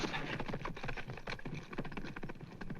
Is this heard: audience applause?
no